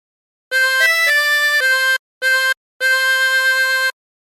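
A harmonica plays a short phrase of the hymn Be Thou My Vision, starting with a few quick stepping notes, then a brief note and a long held final tone, clear and solo.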